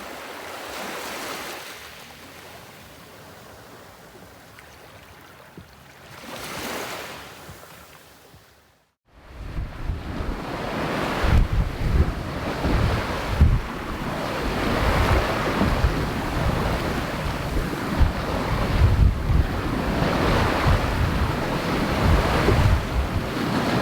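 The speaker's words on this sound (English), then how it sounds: "I'm just enjoying the sunset at this beach with Kylie, the crabs and the rat that lives" Surf washing onto a tropical beach at sunset in Carriacou, steady and fairly close, with wind buffeting the microphone; a brief lull near the start gives way to fuller, continuous rolling waves.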